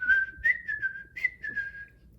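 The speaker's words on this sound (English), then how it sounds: "He whistled all the way there," A person whistles a short, lively tune of a few quick notes, close and clear against a quiet background, with no talking.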